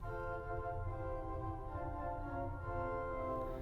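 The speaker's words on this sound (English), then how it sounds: "Spitzprinzipal 4-foot." A 1906 Felgemacher pipe organ plays its Spitzprinzipal 4-foot stop, a soft, even chord of sustained pipe tones that shifts gently, heard alone without talking.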